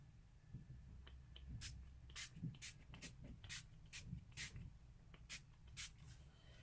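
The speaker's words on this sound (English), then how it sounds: "I'm going to spray a little bit of red in there." Short bursts of red paint from a spray can onto a print surface, a series of separate hissing puffs at an irregular rhythm, fairly close and faint over a low background rumble.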